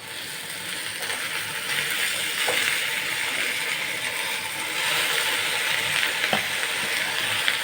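Jute leaves fry in a pan with spices, a continuous sizzle broken by scraping and clinking strokes as they are stirred.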